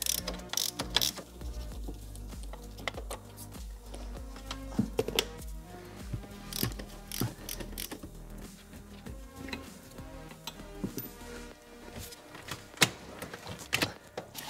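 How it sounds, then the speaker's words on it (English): A ratchet working T50 Torx seat screws loose in a BMW E60, producing rapid, close clicking pawl bursts repeated throughout at a fairly quiet level. "I need to remove these two screws, the same, they are with T50"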